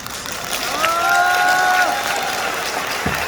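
A crowd at a church rally in Daegu claps in a broad, continuous wash of applause, with a brief tonal whistle-like sound riding over it midway and a faint voice near the end.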